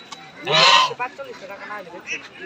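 Ducks and geese at a busy rural poultry market honk in a loud nearby burst, followed by softer scattered calls amid faint background chatter.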